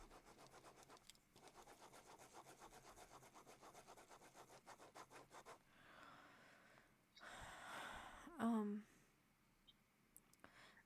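A pencil scribbling back and forth while drawing, with soft, rhythmic rubbing strokes close by that stop partway through. Faint breathing and a brief whispery sound follow.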